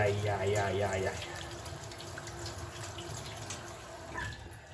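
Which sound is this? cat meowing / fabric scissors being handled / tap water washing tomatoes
tap water washing tomatoes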